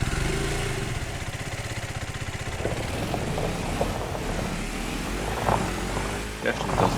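A motorbike engine runs steadily close by, a low rumbling drone with a few brief knocks and clatters over it.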